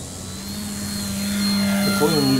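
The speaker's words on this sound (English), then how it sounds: "Here's our maiden flight takeoff." An E-flite Commander mPd 1.4 m electric RC model airplane on its maiden takeoff, its motor whine rising steadily in pitch and volume over a couple of seconds.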